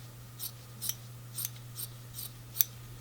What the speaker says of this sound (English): So for this bit I am using my applique scissors